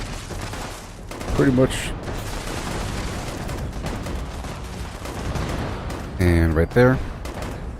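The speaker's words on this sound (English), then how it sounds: "I'm using this amazing thirst zapper weapon that shoots explosive Nuka-Colas at them." Thirst Zapper weapon in Fallout 76 firing explosive Nuka-Colas, heard as a few bursts of gunfire-like blasts and booms within a continuous game soundscape, with someone talking over it.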